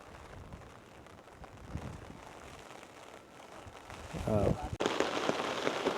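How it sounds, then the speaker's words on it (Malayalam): Heavy rain pours down in a steady hiss and patter on people standing under umbrellas while they talk nearby, growing louder toward the end. "നല്ല മഴയാണ്"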